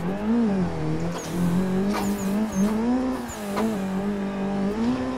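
A car drifts in a steady slide while attempting a donut on a race track; the engine holds a high, wavering drone with faint tire squeal throughout, close and continuous, with no talk.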